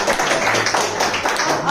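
Audience applause at an open mic poetry evening, a dense wash of many hands clapping close by, continuous and loud for under two seconds.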